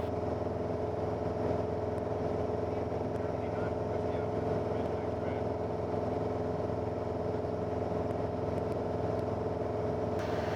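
A Piper PA-28-181 Archer III piston engine drones steadily inside the cockpit in flight, a loud constant buzzing hum with no break throughout.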